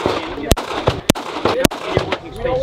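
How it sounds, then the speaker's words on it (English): Pistol gunshots at a shooting session, four sharp loud cracks spaced roughly half a second apart with echo, heard under ongoing talk from the shooters. "I want to shoot some pistols."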